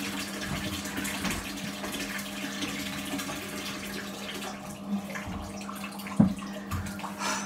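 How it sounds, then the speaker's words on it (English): A bathtub fills from the tap indoors, water gushing in a steady rushing stream close by, with a low fan hum beneath and a brief knock near the end. "I'm just going to turn the bath off."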